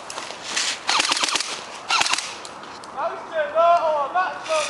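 Bursts of rapid airsoft gunfire crackle through an outdoor skirmish, clustered in quick volleys, with voices and laughter breaking in after the shooting.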